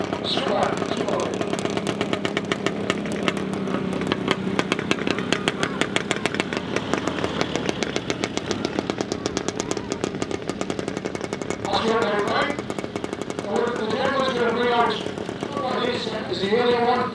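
A 500cc BSA vertical twin motorcycle engine with an aluminium head runs steadily at a steam rally, its rapid even firing loud and close throughout, with voices and other engines breaking in near the end.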